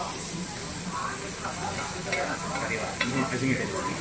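Noodles with meat sizzle and fry steadily on a hot griddle with a constant hiss, punctuated by occasional scraping and stirring sounds.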